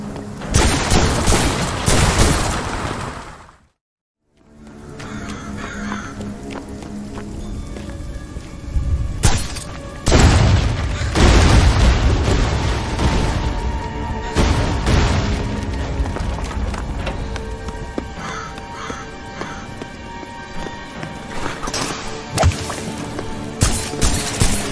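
Wrist crossbow firing in the first-person game Graven, sharp repeated shots and impacts with booming combat noise, loud and close, with a brief silent gap early on.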